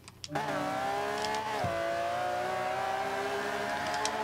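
Engine of a Ferrari 250 in the Forza 5 racing game, a steady high revving drone held through the lap with a quick gear shift dip partway, loud and close, no talking.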